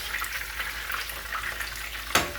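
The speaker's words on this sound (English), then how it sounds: "Drop those into that hot oil until they're nice golden brown in color." Chicken frying in hot oil for Nashville hot chicken gives off a steady, close crackling sizzle throughout, with a sharper burst of spitting near the end.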